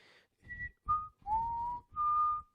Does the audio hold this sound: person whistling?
yes